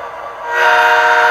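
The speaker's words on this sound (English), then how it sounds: "I just have control of my horn and whistle." A DCC model locomotive sounds its horn and whistle, a loud sustained tonal blast that swells after a softer start and holds steady to the end, with no talking.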